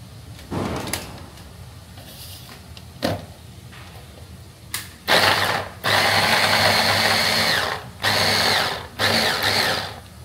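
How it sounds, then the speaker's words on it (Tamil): An electric chopper whirs through tomatoes cut roughly into four pieces, in a few short loud bursts of motor noise separated by pauses, after some quieter clicks and knocks of handling. "தக்காளி வந்து சாப்பரில் தான்ப்பா போட போகிறேன்"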